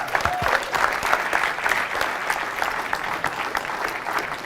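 An audience at a motivational talk applauds, a dense, steady clapping from a room full of people that carries on evenly without voices over it.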